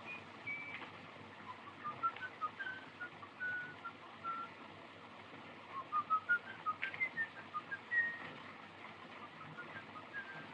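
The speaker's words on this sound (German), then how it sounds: "hör doch mal, da pfeift doch einer." A person whistles a tune outdoors, faint and somewhat distant, with short melodic phrases and repeated notes rising over a low background murmur, in a 1931 black-and-white film setting.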